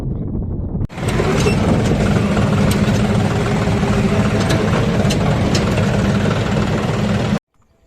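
A tractor engine runs on a farm at a loud, steady, close rumble with a chugging beat. It begins after a short quiet moment and cuts off abruptly near the end.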